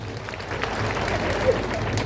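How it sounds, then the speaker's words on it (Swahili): Crowd applause for Ngaruia at a Gatundu North political gathering, a steady wash of clapping at moderate level for about two seconds with no one speaking over it. "Wapi makofi ya Ngaruia?"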